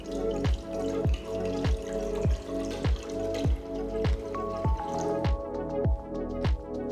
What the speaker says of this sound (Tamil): கடாயில் தேவையான அளவு தண்ணியை ஊற்றுங்க.